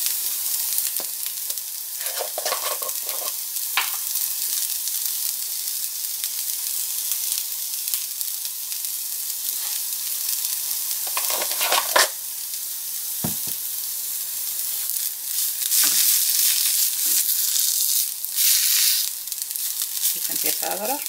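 Garlic-powder-seasoned stew for quesadillas sizzling and frying steadily in a pan, a continuous close hiss with occasional stirring scrapes, growing a little louder toward the end.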